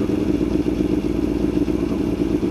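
A motorcycle engine lugs at low speed, around 25 mph, with a deep, steady, tractor-like chugging rumble that stays close and loud throughout.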